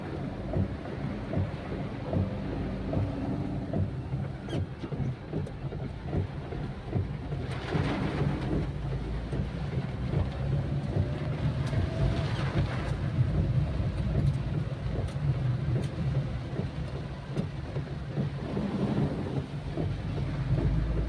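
Heavy rain pours steadily on a farm, a loud continuous wash with low rumbling and wind buffeting the microphone throughout, and no voices.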